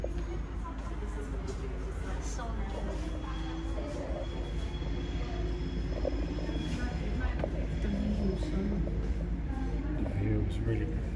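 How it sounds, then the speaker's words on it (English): Trains rumble in the distance near an inner Sydney high school with a harbour view, a steady low rail drone with faint wheel squeals beneath people talking. "I can even hear the trains"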